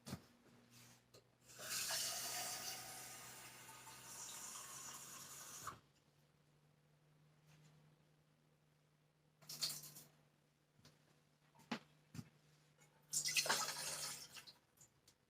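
Water running from a kitchen tap for several seconds to fill a measure of about a cup and a half for boiling, then quiet with brief splashes and a few later bursts of pouring.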